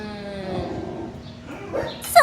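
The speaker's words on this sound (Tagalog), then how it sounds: "Nagagalit na yung mga aso ko." Several dogs at home make agitated yips, whimpers and short barks in close, uneven bursts, with a louder sharp bark near the end.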